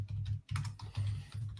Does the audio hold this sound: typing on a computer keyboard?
yes